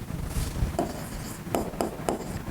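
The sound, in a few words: writing the value on the board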